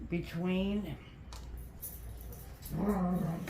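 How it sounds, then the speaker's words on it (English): Dogs playing in the background let out two short bursts of whining yelps, one near the start and one near the end, while a person talks softly nearby. "I do apologize for the dogs in the background."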